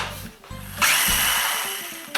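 A blender grinding dry pistachios into powder whirs on with a harsh grinding rattle as hard bits churn inside, running loudly for a couple of seconds before cutting off.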